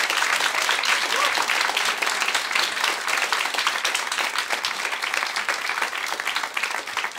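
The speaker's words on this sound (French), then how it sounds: "j'aimerais qu'on s'applaudisse tous ensemble" Dense, steady applause from a live comedy show audience at the start of the performance, loud and continuous throughout with no talk.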